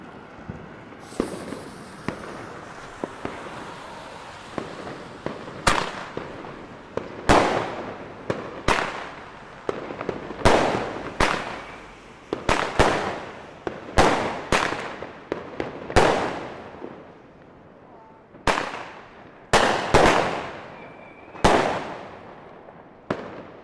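A small Alba Aidos 7-shot consumer firework battery fires a string of sharp, loud bangs, each followed by a crackling decay, spaced irregularly over about twenty seconds outdoors with no talking.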